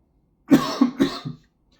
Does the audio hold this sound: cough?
yes